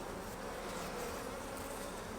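Honeybees buzz steadily at an open hive during an inspection, a dense, continuous hum of many wings close by with no voices.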